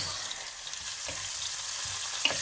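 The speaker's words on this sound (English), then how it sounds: "you want it to fry in the pan for about 3 to 4 minutes until the onion gets soft" Onion softening in a hot pan for lamb curry, a steady dense sizzle and hiss held at an even level throughout, with a couple of soft stirring bumps and no speech.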